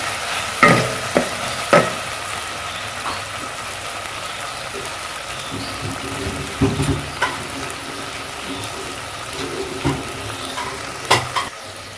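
Ginger garlic paste frying in a pot while a spoon stirs it steadily, giving a soft continuous sizzle broken by several sharp scrapes and clinks of the spoon against the pan, with no talking.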